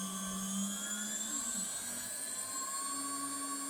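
A 1.5 kW CNC router spindle on a 6040 machine, driven by a Huanyang VFD, runs at 7,200 RPM with a steady high whine, stacked tones and a faint shifting hum, heard up close.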